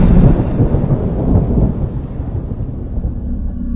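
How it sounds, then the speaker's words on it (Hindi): Loud, heavy thunder rumbles close by, a deep rolling boom that slowly fades, with a wash of rain noise underneath. "एक तेज बिजली की आवाज हुई"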